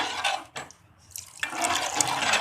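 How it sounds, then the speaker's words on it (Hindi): Water splashes and pours into a cooking pot of mixed dal and spices in two bursts separated by a brief pause, the second longer and fuller, fairly close and alone. "थोड़ा पानी डाल देंगे।"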